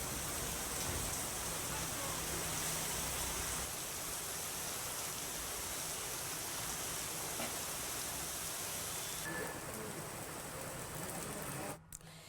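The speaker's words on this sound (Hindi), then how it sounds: "कई इलाकों में झमाझम बारिश का दौर लगातार देखने को मिल रहा है" Heavy downpour in Indian regional news footage, with steady dense rain hiss on waterlogged streets running throughout, loud and continuous with no clear talk.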